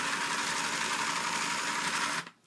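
Sew Cool toy sewing machine running with a steady, buzzing motor whir for about two seconds before it stops and winds down, close and alone.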